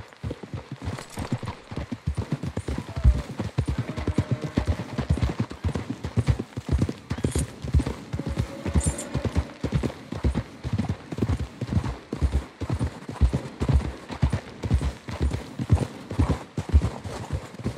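Horses' hooves clip-clop steadily through most of the stretch in the Red Dead Redemption 2 video game, a dense, continuous rhythm of several animals walking, with an occasional faint whinny.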